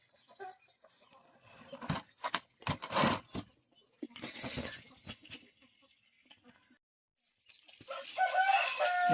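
Aseel chickens on a poultry farm where hens sit on eggs, giving bursts of clucking and crowing that come and go, with a louder cluster near the end; no one speaks.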